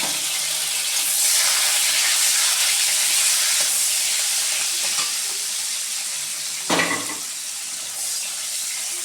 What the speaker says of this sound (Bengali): বন্ধুরা, আমি তেল গরম হয়ে গেছে, আমি শুটকি মাছটা দিয়ে দিচ্ছি।